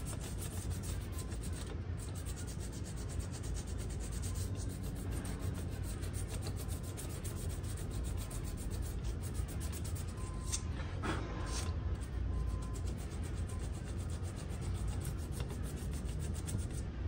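Continuous dry rubbing and rasping as an abrasive pad scuffs the aluminum surface of a Walker mower gearbox, steady and close with no pauses.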